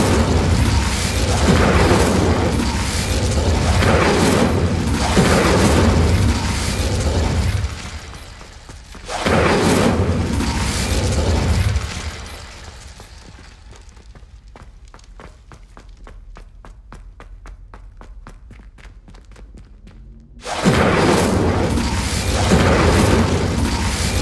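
In Hogwarts Legacy, an Incendio fire spell cast at braziers sets off loud whooshing bursts. Roaring flame blasts come in separate surges, with quieter crackling gaps between them and no talking.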